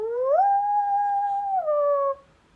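A human voice imitates a loon's call: one sustained, wavering wail that rises, holds steady, then dips slightly before ending abruptly, loud and close with no other sound.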